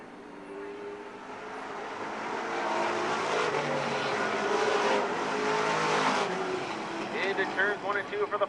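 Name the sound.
race cars on the final lap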